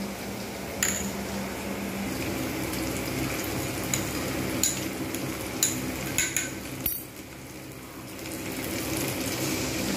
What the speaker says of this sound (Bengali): এই মশলাটা আমি এর মধ্যে দিয়ে দেবো।